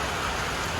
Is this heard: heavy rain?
yes